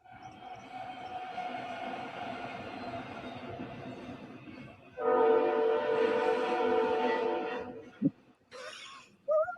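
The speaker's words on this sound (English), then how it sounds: "You can probably hear the trains better with the new mic" Trains pass nearby, sounding long, sustained horn blasts with stacked tones; a second, louder blast follows the first, then a brief clank and a short final toot.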